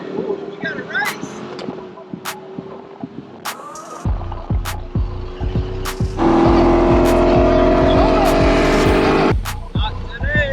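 Ford GT500 and C8 Corvette roll racing, engines rising in a hard acceleration pull that swells loud midway and holds a sustained roar before easing off, with voices and cabin noise beneath.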